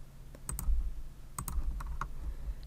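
Computer mouse double-click, crisp quiet paired clicks in a few quick bursts against a low background hum, with no voice over them.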